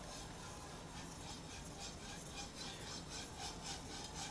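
A Shun chef's knife is drawn across a fine 6000 grit whetstone in rhythmic back-and-forth strokes, a soft, close scraping hiss repeating steadily with no voices.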